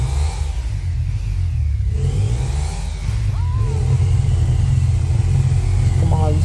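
Motorbike engine in the GTA V video game, a steady low rumble with revving swells that runs the whole clip at close range, constant and loud.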